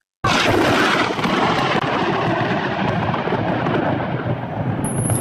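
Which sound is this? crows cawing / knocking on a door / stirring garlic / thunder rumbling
thunder rumbling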